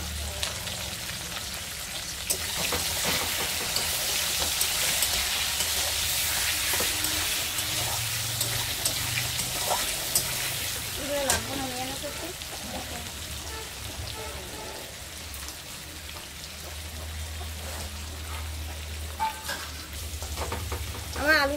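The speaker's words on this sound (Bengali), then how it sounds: "নুন হলুদ দিয়ে আলুগুলোকে ভেজে নেব।" Potatoes frying with salt and turmeric in a pan, a dense, rain-like crackling sizzle running throughout, with occasional faint scrapes and a quiet voice in the background.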